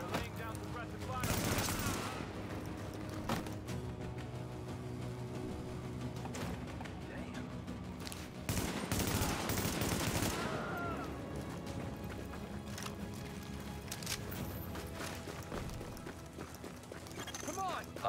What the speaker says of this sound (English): They're laying down suppressive fire.